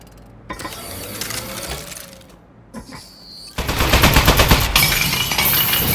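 Automatic turret gunfire in the video game Desk Job, a dense rapid burst starting midway and continuing loud to the end after quieter game sounds.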